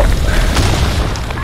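A grenade blast booms in a competitive tactical shooter match, a dense low rumble carrying through the whole moment with a faint voice underneath.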